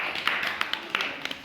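A primary-school class claps for a student during a treasure hunt activity, giving light scattered handclaps at an uneven rhythm that are modest in volume over a soft room background.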